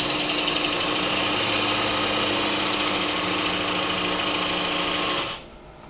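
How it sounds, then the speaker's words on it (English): A knife blade is drawn across a powered belt sharpener, giving a steady, loud, high-pitched grinding whir that holds for about five seconds before the belt stops abruptly. "Place power pull and stop in the middle of the belt."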